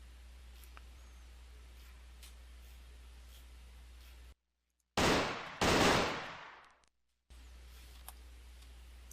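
Gunfire in a survival PC video game: a couple of loud, dense bursts of shots stand out after a sudden drop to silence, set against a steady game background hum, with no talking.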